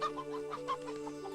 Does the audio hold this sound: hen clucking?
yes